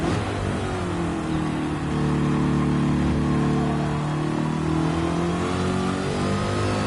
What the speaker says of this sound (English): Oh, I love the sound of this car so much.